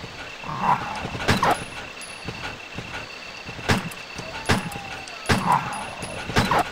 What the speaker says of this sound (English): You will leave me alone, dogs.